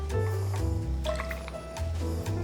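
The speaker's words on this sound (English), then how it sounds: "All right, I got my 1 ounce pour in there." Peanut butter whiskey is poured as a one-ounce measure into a cocktail glass, giving soft liquid gurgles and drips up close over a couple of seconds.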